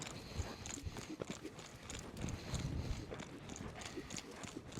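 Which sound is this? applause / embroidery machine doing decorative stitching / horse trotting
horse trotting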